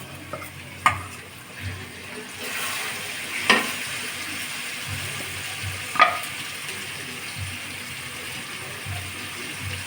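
Spice paste being stirred and fried with potatoes in a pan, a low sizzle under a few sharp scraping strokes of a spatula spaced a couple of seconds apart.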